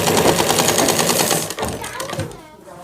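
A sewing machine stitches a shirt at close range, clattering in a fast, even rhythm for about a second and a half, then slowing into looser, uneven bursts.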